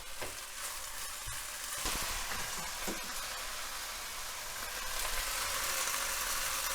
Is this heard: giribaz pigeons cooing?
no